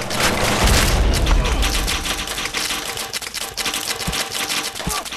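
Rapid gunshots in the ragdoll game Happy Wheels, a dense rattle of clicky shots close and loud, with a heavier booming thump early on and a few sharp hits near the end.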